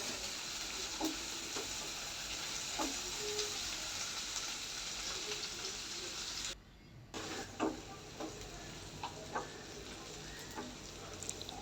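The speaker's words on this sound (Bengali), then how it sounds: "একটু বাদামি করে ভেজে নিলাম" Chopped onion and garlic with a little salt fry in a pan for a home-cooked okra dish, giving a steady close sizzle with occasional stirring clicks and one brief pause.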